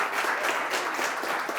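A lecture audience at an architecture school breaks into applause, a dense, even patter of many hands clapping close by and holding steady for the whole moment.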